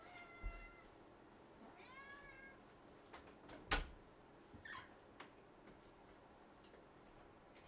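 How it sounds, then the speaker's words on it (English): A house cat meows a few times, soft drawn-out cries near the start and again around two seconds, followed by scattered faint clicks and small knocks in a quiet room. "let me let the cat out."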